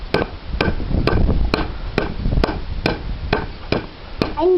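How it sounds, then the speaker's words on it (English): A child hammers wood during a woodwork session, about ten sharp, evenly spaced strikes ringing out close by over a busy background. "You give it a wee hammer now, Emma."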